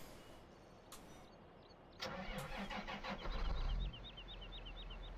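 The engine of a wood chipper in Farming Simulator 15 cranks and catches, a few clicks and a brief starter whir, then the engine settles into a steady mid-pitched idle, with electronic beeps and chirps over the top.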